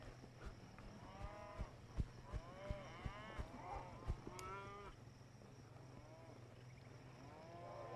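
Cattle being driven uphill by a rider on horseback let out several overlapping moos, mostly in the first half, against a faint steady hum with soft knocks.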